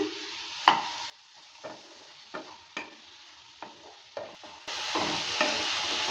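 Hog plum pickle with jaggery being stirred in a pan, a spoon scraping in short separate strokes over a faint sizzle that grows louder and steadier near the end, close by with no talking.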